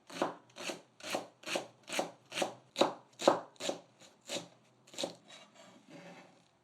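Knife chopping green onion on a cutting board: about a dozen crisp, evenly spaced chops close up, tapering to softer cuts at the end, with no talking.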